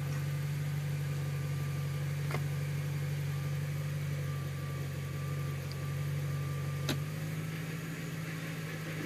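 An Audi RS6 with gearbox trouble idles with a constant low drone and a faint whine, the hum dropping slightly near the end, with no voices.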